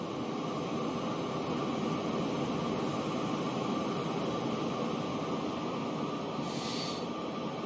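A train rolls along in Transport Fever 2, a steady broadband rumble holding at an even level throughout, with a brief faint hiss near the end.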